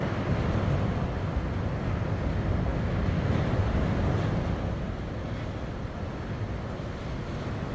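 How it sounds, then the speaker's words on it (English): Strong, relentless wind sweeping across open plains, a loud steady roar of broadband rumble with heavy low-end buffeting, constant throughout with no pauses and no voices. "the wind has been relentless for the last few weeks here on the plains"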